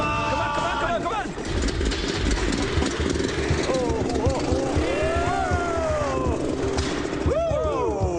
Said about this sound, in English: The pressure washer engine works.